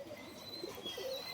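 Pet pigeons, including a golden one, kept in a home loft make a few soft, low coos close by but faint, against a quiet background hiss.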